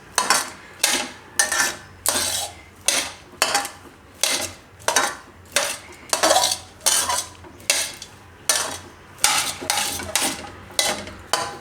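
Puffed rice ladoo mixture being stirred and mixed in a metal pot, a steady run of about twenty rhythmic scraping strokes, close and fairly loud, with no talking.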